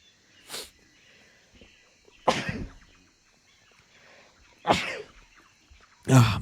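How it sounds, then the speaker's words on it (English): Four sharp sneezes spaced a couple of seconds apart, sudden bursts over a quiet background during a stream of the Jurassic Park horror game Clawed. "Bless you guys for sneezing on my stream."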